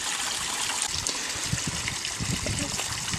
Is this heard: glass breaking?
no